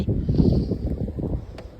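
Heavy wind from a snowstorm roaring and buffeting close to the microphone in a steady low rush, loud and continuous with no voices.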